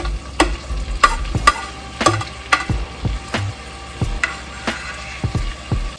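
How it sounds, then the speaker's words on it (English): Steak sizzles in melted butter in a pan while being stirred, with loud, close utensil scrapes and clacks against the pan at a fairly regular pace over a constant frying hiss. "And then stir the steak in the butter."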